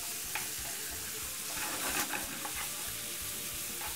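Pork stir-frying in a hot pan, a steady close sizzle and crackle running throughout with occasional scrapes and clinks of stirring, no voices.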